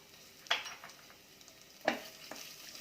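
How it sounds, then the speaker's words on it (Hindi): Onion and ginger fry quietly in a pan with a soft sizzle, broken by two or three brief stirring scrapes. Nobody speaks. "और अदरक को भूनने तक इसे पकाएंगे।"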